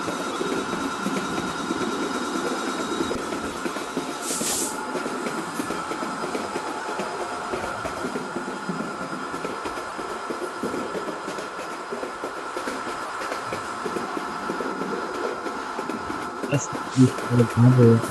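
A train runs in the game Train Simulator Bangladesh, giving a steady low rumble and hum throughout under a voice talking over it, with a brief louder burst near the end.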